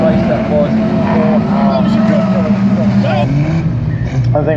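Race cars at a raceway cross the finish line, their engines droning and shifting pitch as they pass, loud and continuous under a commentator's steady talk.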